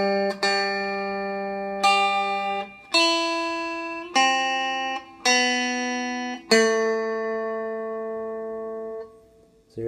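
Happy Birthday melody picked on guitar as six slow single notes, each ringing out and decaying before the next, clear and close, with no talking.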